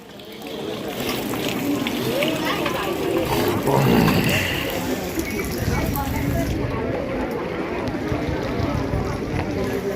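Floodwater after heavy rain near Nalasopara station rushes in a steady, loud broadband wash throughout, with people talking over it.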